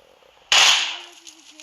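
Groza rifle rounds striking a car in a video game, a single sharp burst of impact with a bright crack that rings and fades over about a second, loud and close.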